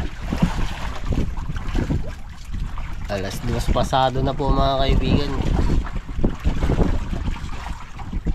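Strong wind buffets the microphone in heavy, continuous gusts while someone talks over it, at the edge of an island.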